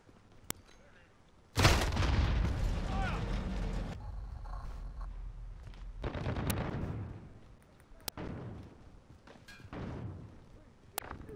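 Video game grenade explosion, a sudden loud blast that rumbles and decays over a couple of seconds, followed by scattered gunfire cracks and later booms amid battle noise.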